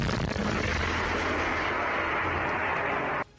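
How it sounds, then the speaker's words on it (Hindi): A loud, sustained blast roars for about three seconds, like a rocket explosion, then cuts off abruptly into quiet. "एक एक करके ये रॉकेट जैसे ही अपने टारगेट से टकराते वहां तेज धमाका होता"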